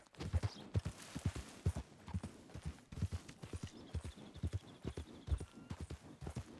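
Horse hooves clip-clopping at a steady walking pace in Red Dead Redemption 2, a continuous rhythmic run of close hoof strikes over a faint background.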